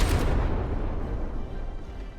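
Heavy naval turret gunfire and shell hits on a battleship in the From the Depths game, a dense, continuous rumbling barrage of booms that starts loudest and slowly eases off.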